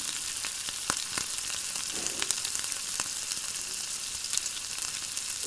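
Tomatoes frying in a pan for a ridge gourd milk curry, a continuous close sizzle with scattered sharp crackles and pops, steady throughout with no talking.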